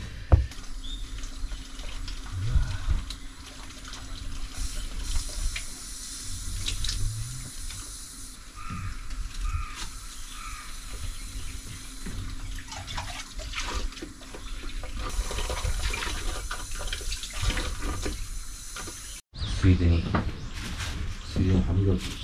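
Tap water runs and splashes at a small sink inside a Toyota HiAce camper van as things are washed, with clinks and cupboard knocks over steady noise and a sharp break near the end.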